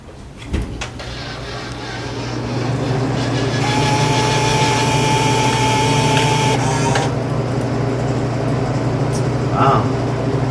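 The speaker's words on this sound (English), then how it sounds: "I'm gonna turn the machine on and we're gonna test it out" Dixie Narco vending machine powering up after repair: a click, then a steady motorized hum and whine that swells and holds at constant level, with a brief higher mechanical tone partway through and a clack near the end.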